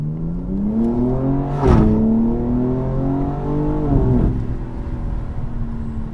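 A BMW M4 Competition engine revs hard and close, its pitch climbing in steady sweeps with two sharp blips and gear-change dips between the rising pulls.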